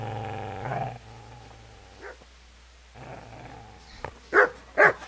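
A dog in the video game Kingdom Come: Deliverance growls low and rough at first, then after a quiet stretch lets out two sharp, loud barks close by.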